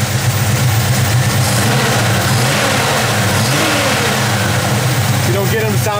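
A 1970 Chevelle SS convertible with headers revs its V8 close up, a loud, continuous deep engine roar with rising throttle blips, and a voice briefly audible over it.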